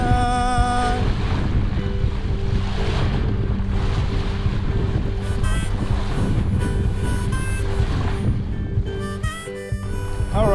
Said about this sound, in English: Absolute spectacular sailing today, finally for a change.